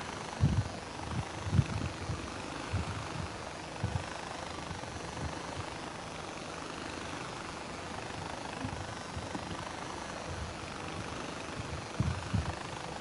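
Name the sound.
helicopter flying in the video game Far Cry 4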